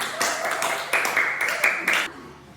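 Short bursts of classroom clapping as students applaud during a Quran recitation lesson, several quick rounds of hand claps with children's voices mixed in, ending abruptly.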